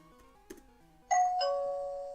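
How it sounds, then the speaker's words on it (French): A doorbell sound effect from a Dreamcast game script plays alone: a faint click, then a bright two-note ding-dong chime that rings out and slowly fades. "Voilà, j'ai le bruit d'une sonnette."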